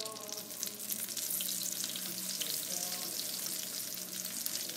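Eggplant fries in oil with a continuous, close sizzle and crackle at an even level, with no talk.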